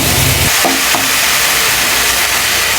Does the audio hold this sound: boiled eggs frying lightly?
yes